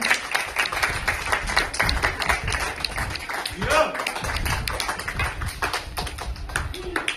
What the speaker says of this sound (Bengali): একটা জোরে হাততালি হয়ে যাক প্রেমজিতের জন্য